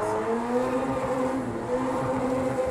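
A race car engine in the Project Cars 2 video game drones steadily at high revs, its layered harmonic whine holding nearly constant and loud throughout with no talking.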